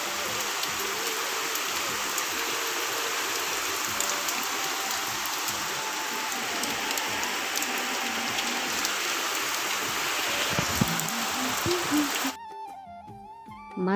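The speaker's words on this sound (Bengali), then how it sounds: "আজকে জন্মাষ্টমী দিনে কত বৃষ্টি হচ্ছে বাবরে মা" Heavy rain pouring steadily on Janmashtami, a dense even hiss with the patter of drops on surfaces that holds for about twelve seconds before stopping abruptly.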